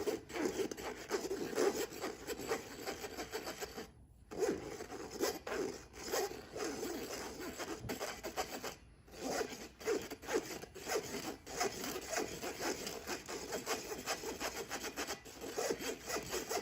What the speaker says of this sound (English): When you're sifting, you can push the ingredients through using a rubber spatula or a spoon